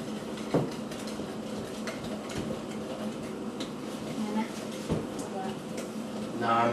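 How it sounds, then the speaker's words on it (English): Brownie batter is whisked by hand in a bowl, giving continuous scraping and clinking strokes with occasional sharper taps. Voices talk over it at the same time. "We don't use a mixture, we just whisk it."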